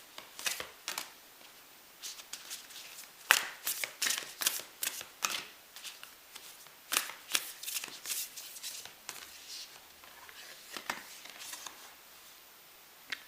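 A deck of guidance cards is shuffled by hand at close range, giving quick bursts of riffling and flicking in an irregular rhythm, soft and without speech.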